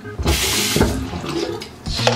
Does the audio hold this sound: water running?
yes